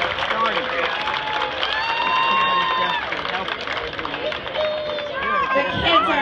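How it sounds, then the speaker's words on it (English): A crowd at a Greek festival applauds and cheers for the dancers, with continuous clapping and shouts under loud music and a bright, warbling melody throughout. "Let's have a round of applause for all of you."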